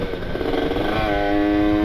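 A Kawasaki Ninja two-stroke motorcycle revs close by, its rough, clattery idle rising into a sharper whining rev toward the end of the short burst.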